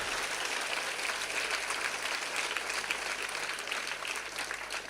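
Audience applause during a Tamil public speech: steady, dense clapping from a crowd, loud and continuous for the whole stretch with no pauses.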